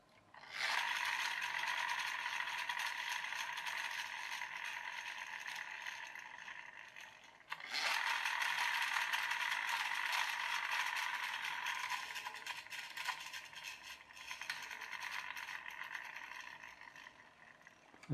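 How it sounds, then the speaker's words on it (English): A metal-geared friction flywheel motor in a toy E-Type Jaguar car whirs steadily with a rattling, buzzing drone for about seven seconds, cuts off briefly, then spins up again and runs on, close and fairly loud with no talking. "That's a lovely flywheel motor. All metal gears."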